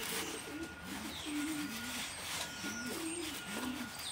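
Repeated low, throaty coos come from a small yellow-eyed pigeon hen in a loft, several rolling phrases in steady succession close by, with light chirping and faint background noise.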